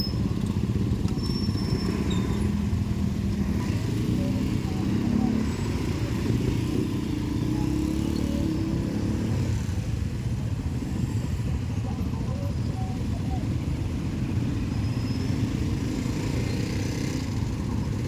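Motorcycles fill a busy road in morning traffic, their engines droning and buzzing steadily and close by for the whole stretch, with faint voices and vehicle clatter mixed into the constant rumble.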